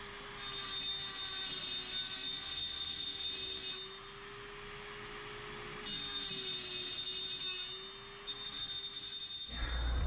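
Dremel rotary tool cutting, a steady high-pitched whine that dips briefly and resumes, close and loud, ending with a sharp clunk.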